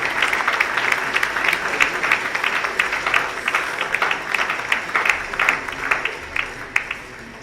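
An audience at an anniversary celebration applauds, a steady wash of clapping with a few sharper individual claps standing out toward the end, moderately loud and without speech.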